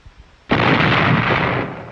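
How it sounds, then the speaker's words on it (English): Artillery and mortar fire in World War II combat footage from the Okinawa campaign: a single loud blast erupts abruptly and rolls into a sustained roar that slowly fades, with no voices. "Artillery of the 15th Marines pounded the Yahitaki defenses"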